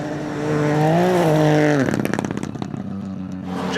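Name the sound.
Ford Fiesta Rally 4 rally car engine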